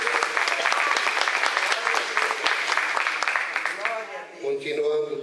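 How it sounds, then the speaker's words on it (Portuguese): A church congregation claps during a family worship service, the dense applause running for several seconds before thinning out as a voice begins speaking near the end. "Aplauda o Senhor Jesus."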